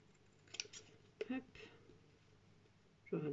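Crisp little snips of small scissors cutting the corners of rice paper for a card come in short bursts, with a few quiet clicks and a louder rustle near the end.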